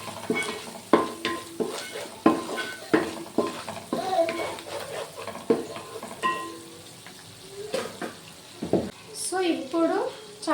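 A spoon stirs turmeric into fish masala frying in a pan, making rhythmic scraping and clinking against the metal under a low sizzle, with someone talking over it.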